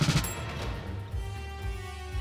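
In a video game, a double-damage gunshot cracks loudly at the start and decays into a rumbling, booming tail, with a few softer thuds following, no speech over it.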